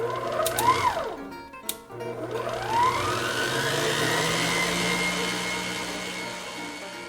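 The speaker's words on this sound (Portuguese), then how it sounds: "vamos colocar nossa massa para bater um pouquinho" An electric kitchen mixer works beer pizza dough, with a steady motor whine that rises and falls in pitch as it strains, close and fairly loud, with no speech.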